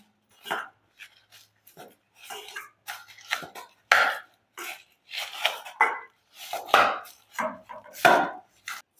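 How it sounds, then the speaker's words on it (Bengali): Mashed banana and sugar being mixed together for malpoa, with a series of soft, irregular squelching and scraping bursts close by, spaced unevenly with short pauses between strokes. "কলার সঙ্গে চিনিটা ভালো করে মিশিয়ে নেব"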